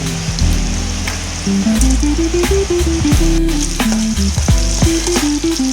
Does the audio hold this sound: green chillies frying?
yes